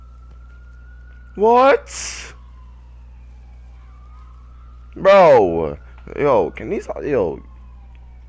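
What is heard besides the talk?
sirens in a video game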